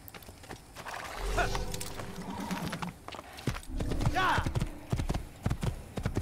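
Horse hooves clip-clopping while riding in Assassin's Creed, close and rhythmic with a neigh partway through, under someone talking throughout.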